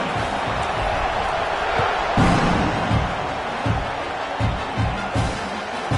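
A football stadium crowd at a college game roars steadily before a kickoff, a dense, loud wash of cheering and noise with occasional swells and thumps, heard from within the stands.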